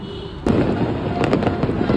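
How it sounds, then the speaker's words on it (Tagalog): New Year's Eve fireworks burst with a sudden loud bang, followed by a dense crackling rumble and scattered sharp pops in the distance. "Insert video ng fireworks dito."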